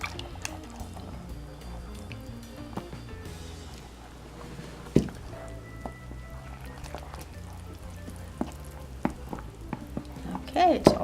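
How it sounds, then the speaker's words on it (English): Flour is stirred by hand into cake dough for a cinnamon cardamom roll cake, giving soft scraping and clicking bowl sounds at an uneven rhythm against a quiet kitchen background. "And I add little by little and keep stirring."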